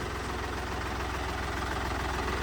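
A tractor engine idles steadily up close, a continuous low rumbling throb with no voices, from a farm tractor such as a Mahindra 475 or Farmtrac 45.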